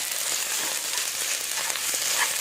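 Garlic is added to a hot pan for French onion soup and stirred, giving a steady, close sizzle with light scraping, no talking.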